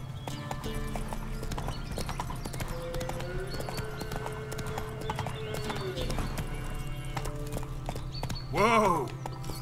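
The horse Roach in The Witcher 3 video game trots along with steady rhythmic clip-clop hoofbeats under a constant low hum, then gives a loud whinny near the end; no talk is heard.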